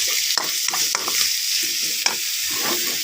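Pork stir-fried for a Thai dish of beans with red curry paste, a steady close sizzle with repeated scraping spatula clatter and sharp knocks against the pan.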